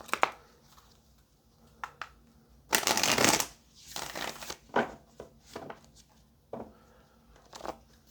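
Tarot cards shuffled close by, with a loud riffle burst near the start followed by several shorter flicks and taps of the deck.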